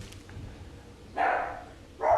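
A dog barks twice indoors, two short separate woofs about a second apart, fairly close and clear over a quiet background.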